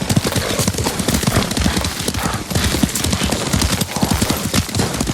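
Horse hooves galloping in the video game Ghost of Tsushima, a dense, loud, rapid clip-clop rhythm that continues steadily throughout, close and unbroken, with a faint whinny.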